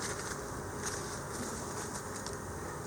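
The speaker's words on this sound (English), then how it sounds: "Pretty many bees on there." Honeybees swarm around a hive frame, a dense, continuous buzzing drone that holds steady throughout, close by and moderately loud, with no voices.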